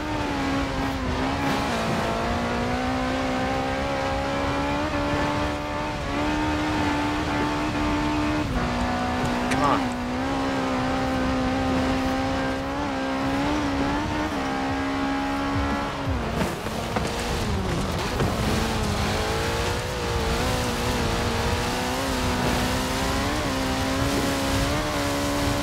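A stock 1985 Ford RS200 Evolution in Forza Horizon 4, its engine droning steadily at high revs with pitch wavering through gear changes and a sharp drop and climb midway, sustained and loud throughout.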